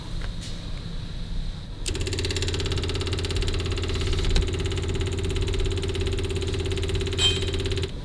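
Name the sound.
vintage car engine revving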